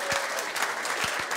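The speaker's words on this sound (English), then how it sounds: "Round of applause for Megan Woods." Brief burst of applause from a live audience at a televised political talk show as a Labour MP is introduced, dense and steady clapping for about a second and a half with no voices.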